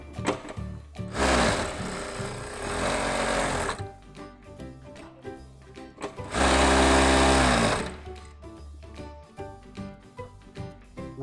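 A Jack F4 single-needle sewing machine with a small motor runs in two loud, close bursts of a couple of seconds each, separated by quieter clicks and handling sounds.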